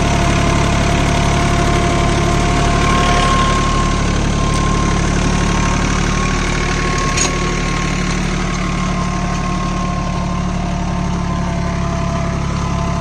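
Swaraj Target 630 4WD mini tractor engine runs steadily under load while pulling a cultivator, a close, loud, continuous diesel drone with a low rumble and faint knocking, no voices.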